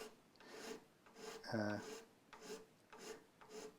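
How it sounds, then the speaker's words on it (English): Faint rubbing and rasping strokes on the wooden edge of a Washburn acoustic guitar, repeated in a slow rhythm, with a brief tonal squeak in the middle. "I can just clean off some of the grime"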